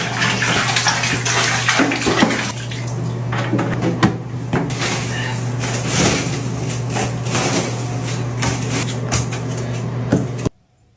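A bathtub fills for a themed bath, with water pouring steadily and loudly from the tap into the tub as a continuous rushing gush until it stops abruptly near the end, plus a faint steady hum beneath.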